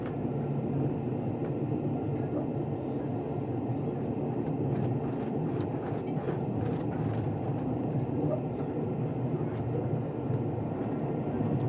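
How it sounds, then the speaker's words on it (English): Steady low rumble and rattle of a moving luxury train dining carriage in the UK, continuous throughout with faint clicks and knocks riding on top. "That is the train wobbling, not me."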